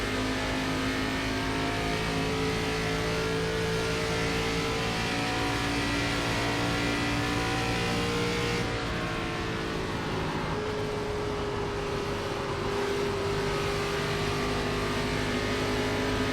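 A NASCAR race car engine in the iRacing simulator drones loudly and continuously at high revs, the pitch dropping partway through as the throttle is lifted through a turn, with no talk.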